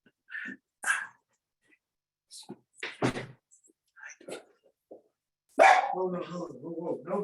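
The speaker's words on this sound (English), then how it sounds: "No barking." A dog barks in short, sharp bursts amid scattered thumps, with a person talking over the last couple of seconds.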